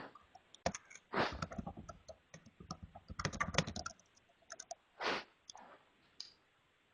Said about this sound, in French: j'entends quelqu'un taper au clavier